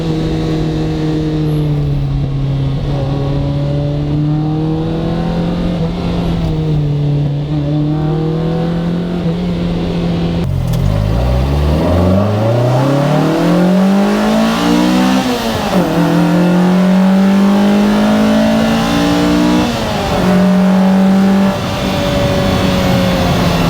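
A Lotus Exige S1 accelerates hard on a small road, its engine droning up through the revs, dropping sharply at a gear change and then climbing again in a loud, continuous pull heard from inside.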